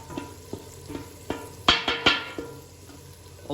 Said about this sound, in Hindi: और दाल को हम अच्छी तरह से अंदर मिक्स करेंगे।